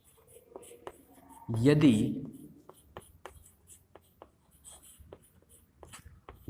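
Pen writing out physics notes on optics during a Hindi-language lecture, a scratchy stroke building near the start and fading, followed by light intermittent taps and scribbles, with brief speech over it.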